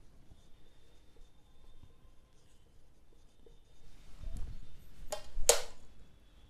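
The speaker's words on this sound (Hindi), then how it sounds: "यहाँ पे लिख देते हैं वाडगांव।" Marker or chalk writing on a classroom board during a maths lesson, a few soft scratchy strokes building to two sharp, close squeaks and scrapes near the end, with no talk.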